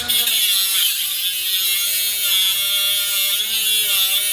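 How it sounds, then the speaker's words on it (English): A power tool, an angle grinder working on a classic Renault R16 engine part, whines loud and close without pause, a steady high-pitched grinding drone with slight wavering in pitch and no talking. "I'm going to get the grinder out."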